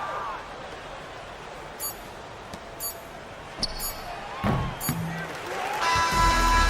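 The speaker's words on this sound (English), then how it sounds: "So the home crowd happy here as they get the victory" Home crowd in a basketball video game, Euroleague-style: low arena murmur with scattered ball bounces, then the crowd swells into loud cheering as a buzzer tone sounds at the end.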